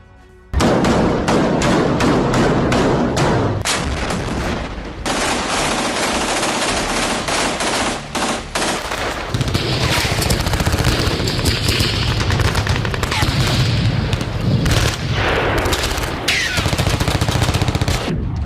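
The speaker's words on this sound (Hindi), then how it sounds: "गाजा में बरसता ये गोला बारूद इजराइल का प्रतिशोध है।" Intense gunfire and shelling in Gaza, with rapid machine-gun bursts and heavy thuds hammering almost without pause, loud and close throughout.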